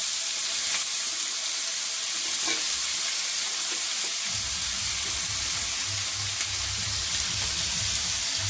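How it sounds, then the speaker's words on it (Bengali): Cut potatoes dropped into hot oil for an egg-potato dish, producing a loud, continuous broadband sizzle that fills the whole stretch, with a low rumble joining partway through. "আলুটাকে কেটে দিচ্ছি, দেখতে পাচ্ছি আলুটাকে দিয়ে দিচ্ছি।"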